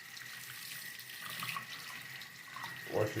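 Water streams from a tap over a Jada diecast model car to rinse soap from it, a continuous close splashing hiss that grows brighter with a heavier gush of water near the end.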